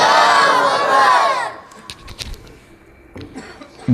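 A large crowd at a Hindi-Urdu religious gathering roars a loud, sustained chanted response to the Nara-e-Takbir call, then falls away into scattered faint voices and brief shouts.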